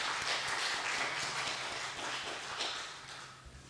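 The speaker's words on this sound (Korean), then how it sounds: "우리 한번 박수로 환영하겠습니다." Church congregation at a Sunday service applauds in welcome, a moderate round of clapping that gradually fades toward the end.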